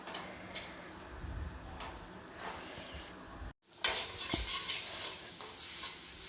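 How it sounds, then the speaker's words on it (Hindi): Masala with kasuri methi fries and sizzles in a pan while a spoon stirs it, with scraping taps; a brief cut to silence, then louder sizzling resumes up close. "कसूरी मेथी डालने के बाद मैं मसाले को फिर से 10 से 12 सेकंड तक भून ली हूँ मैं"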